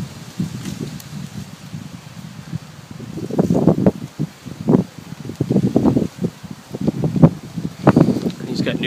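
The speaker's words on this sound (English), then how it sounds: "It's a windy day out here" Wind on a breezy day at an outdoor Florida honeybee yard with hives, buffeting the microphone in uneven low rumbling gusts that swell and fade, growing stronger through the second half.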